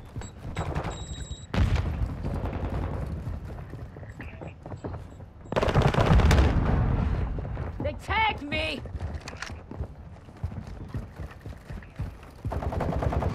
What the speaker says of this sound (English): Someone was shooting at me.